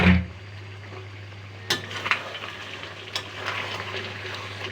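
Goat meat with chui jhal and garlic sizzles steadily in a pan, with a couple of sharp clanks from the spatula and intermittent stirring scrapes over a low constant hum.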